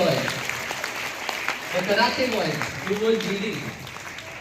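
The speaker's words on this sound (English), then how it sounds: "So clap loudly." An audience claps after a school performance by karate performers, with steady applause running underneath someone speaking.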